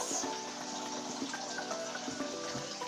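Water added to a pot of meat while cooking egusi soup, a steady close stream splashing and gurgling into the pot for the whole stretch, with no voices over it.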